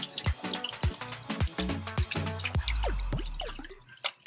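A freshly cleaned brook trout is rinsed off with water. Irregular close drips and small splashes fall one after another, then a short gush of pouring follows before more scattered drips.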